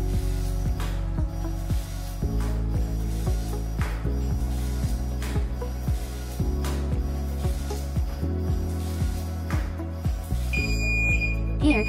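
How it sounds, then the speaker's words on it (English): Zebra RFID label printer resuming printing, a steady mechanical hum with a regular ticking rhythm running throughout, close and continuous, with no talk. "At this point, the printer will automatically resume printing."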